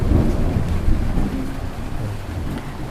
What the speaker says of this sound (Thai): เรามีแบ็กกราวเป็นเสียงฝนตกฟ้าร้ององ